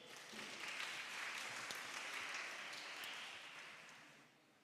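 Audience clapping for a primary school team at a science and maths quiz competition, a brief, moderately loud burst of many hands that swells quickly, holds, then fades out toward the end with no talking.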